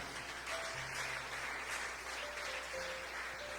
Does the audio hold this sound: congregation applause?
yes